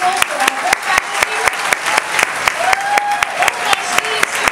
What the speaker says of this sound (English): One more round of applause for our whole faculty.